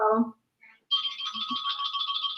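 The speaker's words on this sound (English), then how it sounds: "As my phone is ringing during our live stream" A mobile phone ringtone sounds during a live stream, a steady bright repeating electronic tone running on after a short voice at the start.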